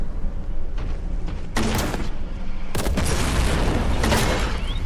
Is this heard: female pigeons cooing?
no